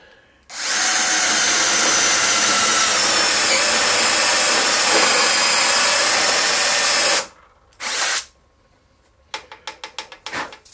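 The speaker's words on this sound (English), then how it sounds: "So I'm just going to drill the rest of these." A power drill whines loudly and steadily for several seconds while boring a 7/16-inch hole in an aircraft panel, stops, gives a brief second burst, then scattered clicks and rattles follow.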